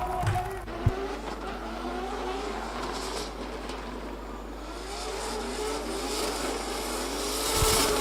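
Two drift cars slide side by side through the final transitions at the Oman International Drift Championship finals, engines droning and revving in overlapping, wavering tones, with tire noise and a sharp knock early on.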